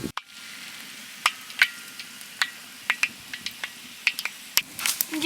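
Whole spices such as cinnamon and cloves fry in oil for chole, with a steady low sizzle and scattered sharp pops and crackles, fairly close, with no talk.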